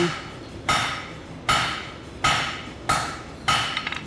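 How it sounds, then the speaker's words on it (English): Hammer blows on metal as a blacksmith isolates about an inch of stock at the end of a workpiece on an anvil: five sharp, ringing strikes spaced roughly evenly, each decaying quickly, loud and close with no talk. "I'm going to take about 1 inch of material and I'm just going to give it a couple of hits."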